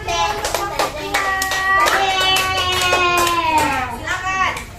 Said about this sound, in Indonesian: sambut dulu, tepuk tangan dulu untuk kelompok kita